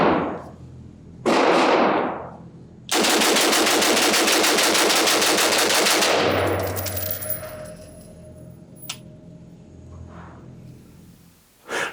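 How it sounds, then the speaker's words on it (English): A B&T Haenel CR223 pistol fires a mag dump at a range, opening with a couple of loud single shots and then a long rapid string of close, blasting gunfire that tails off into echo and faint metallic clinks. "When I did that mag dump, take a look at the recoil of this particular rifle"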